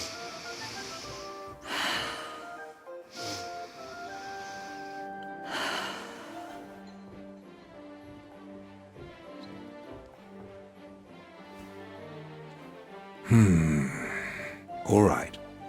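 A wounded character in Kingdom Come: Deliverance 2 takes several deep, audible breaths: loud sharp inhales at intervals, some snort-like and rasping, set against soft background music, with a final heavy pair of breaths near the end.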